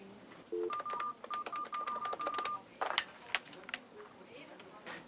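Telephone keypad tones sound during a phone call, a quick series of short beeps followed by a longer held tone, then clicks and handling noise, with faint speech in the background.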